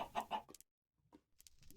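Minecraft chickens cluck in a short burst of two or three close, clear clucks, then a brief silence and a few fainter game sounds.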